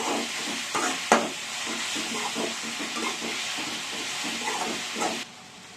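Onions for crab masala sauté in a pan with a steady close hiss and sizzle, broken by light stirring scrapes until the sound cuts back near the end.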